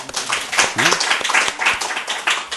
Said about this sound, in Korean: 박수 한번 쳐요